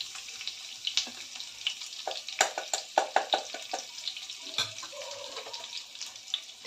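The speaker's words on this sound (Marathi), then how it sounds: "लसूण कुटून घेतलेलं आहे ते घालते" Crushed garlic goes into hot oil already holding mustard seeds and cumin, producing a steady hissing sizzle with a run of quick crackles and stirring clicks, heard up close.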